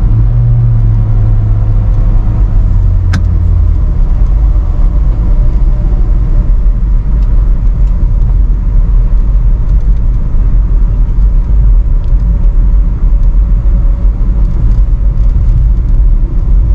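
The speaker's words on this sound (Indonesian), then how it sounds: "Saya pencet tombol sportnya ya supaya RPM-nya tinggi dan engine brake-nya kerasa ya." Steady low rumble of a 2017 Nissan Grand Livina SV automatic cruising on a toll highway in sport mode, engine and road noise loud and continuous with no voices.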